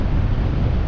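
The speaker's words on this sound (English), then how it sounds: "it's windy" Strong wind buffeting outdoors on the coast at Rhosneigr, Anglesey, just after rain, with a constant low rumble, loud and close, no voices.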